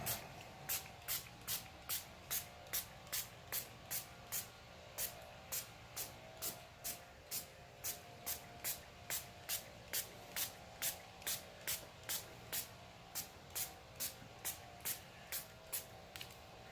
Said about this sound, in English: we're going to go ahead and spray it all over the lens